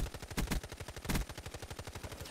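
Automatic weapon fire in a first-person shooter video game, heard as a fast, steady rattle of shots that runs the whole moment at a moderate level, with a few louder bursts mixed in.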